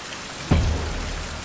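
Steady rain falling in the survival game Survival: Fountain of Youth, a constant hiss broken by one sudden heavy splash or rumble partway through, with no talking.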